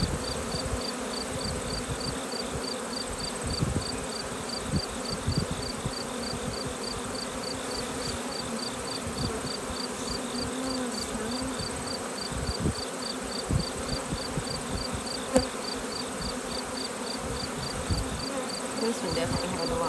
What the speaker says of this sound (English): one definitely had a lot more bees in it.